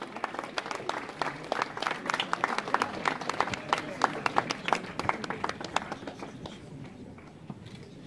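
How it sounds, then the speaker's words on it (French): Audience applause at an evening artists' event in Antibes, steady dense clapping from a crowd that swells and then tapers off toward the end, with some talk mixed underneath. "Sous vos applaudissements, Nicole Gage, merci."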